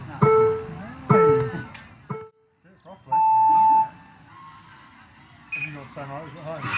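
Electronic start beeps for an RC race: two short tones, a third, then a longer held tone, with an announcer talking around them and some chatter after.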